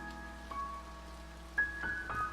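Soft, steady rain falls throughout a scene in the video game To The Moon, a continuous patter under a looping musical tone with a few brighter chimes.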